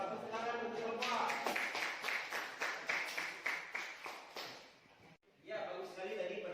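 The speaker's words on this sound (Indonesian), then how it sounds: "Tepuk tangan untuk Bapak" An audience gives a presenter a steady round of rhythmic applause in a classroom setting, the clapping fading after about four seconds, with a voice speaking before and after.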